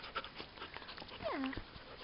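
A dog pants and lets out a brief rising whimper, close by, with faint background sounds and a voice softly present.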